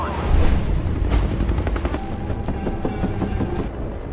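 A helicopter flying into a storm in the film Kong, a dense, loud continuous roar with rumbling low end and faint rhythmic rotor texture, sustained throughout with no talking.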